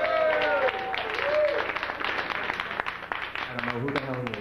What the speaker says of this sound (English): Big hand for Joe Nelms.